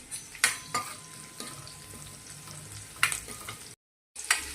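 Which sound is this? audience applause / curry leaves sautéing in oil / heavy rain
curry leaves sautéing in oil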